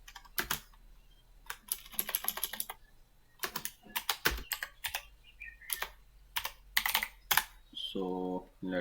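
Fingers tap quickly on a computer keyboard in uneven bursts and pauses, close and clear, while a text file is written on a computer; a short hum closes the run and no one speaks.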